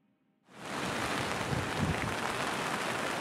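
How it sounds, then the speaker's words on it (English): Rain starts suddenly and then falls as a steady, dense hiss at a campsite in Nova Scotia, with no voices. "I hate breaking camp in the rain."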